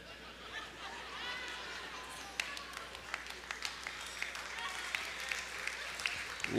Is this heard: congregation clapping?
yes